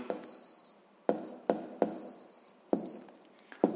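Pen writing by hand on paper while working a sixth-grade maths exercise: a series of scratchy strokes, each starting with a sharp tap, spread across close, quiet surroundings with no talk.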